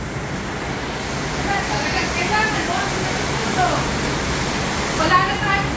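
Heavy rain pours down overnight in a steady, dense roar of noise, with a few faint drips and splashes rising above the constant downpour.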